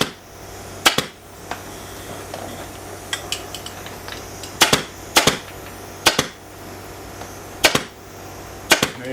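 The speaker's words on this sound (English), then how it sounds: "I'm going to have you staple the rest of this" An upholstery staple gun fires into fabric on a carved mahogany chair, sharp loud snaps at close range coming singly and in quick pairs at irregular intervals over quiet shop background.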